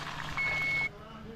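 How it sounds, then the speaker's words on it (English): Kitchen timer sounding a single steady electronic tone for about half a second over cooking background noise while clams are prepared and cooked. "There goes the timer."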